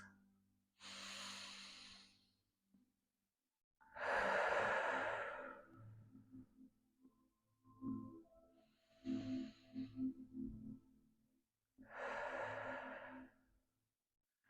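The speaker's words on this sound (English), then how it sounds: "Fill your lungs with 2 more deep inhale and exhales" Deep yoga breathing, slow full inhales and exhales that come as four long, close, breathy rushes separated by pauses, with a soft voiced hum in between.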